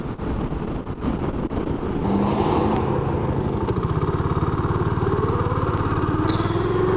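Suzuki LS650 Savage single-cylinder motorcycle engine running steadily with a pulsing thump that deepens and picks up rhythm partway through, close and loud, no voices.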